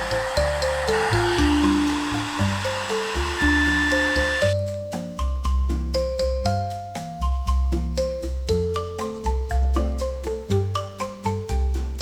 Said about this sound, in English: I used a heat gun to heat up the outside to give it a shiny texture